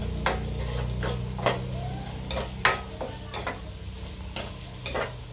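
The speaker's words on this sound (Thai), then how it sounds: "เจียวให้หอมหอม เจียวให้กระเทียมเหลืองสักหน่อยหนึงก่อน" Garlic frying until golden as the start of a Thai braised pork leg (pa lo) dish, a steady close sizzle with regular scraping strokes of a spatula across the pan roughly every half second.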